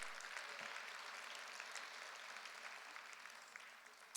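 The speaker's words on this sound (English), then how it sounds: "I want to give an applaud to those that put our platform together" An audience at a Lincoln Day Dinner applauds steadily, a soft, even wash of many hands clapping heard from some distance, gradually thinning toward the end.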